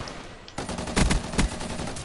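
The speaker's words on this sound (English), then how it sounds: "Crap, I hear shooting." Rapid bursts of video game gunfire, several cracking shots in quick succession over a constant game background, with no talking.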